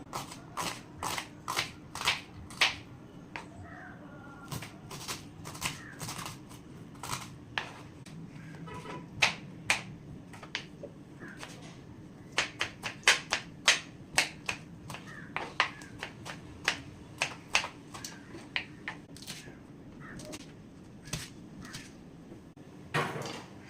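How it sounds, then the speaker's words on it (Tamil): Rapid, sharp knife chops through large onions on a cutting board, coming in irregular bursts of clicks and taps over a long stretch, close up with no talking. "நான் ரெண்டு பெரிய வெங்காயம் எடுத்திருக்கேன் இதை வந்து நம்ம வந்து கட் பண்ணிக்கலாம்"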